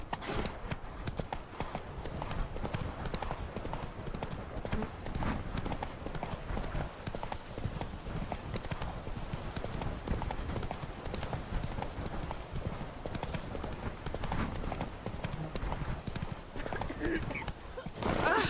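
Roach the horse galloping in The Witcher 3, with dense, rapid hoofbeats drumming steadily at moderate volume throughout, mixed with ambient game sound.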